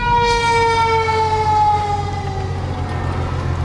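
A fire truck siren wails loud and close, a sustained rising-and-falling electronic tone with harmonics that slowly drifts lower as it continues, over a rumbling truck engine.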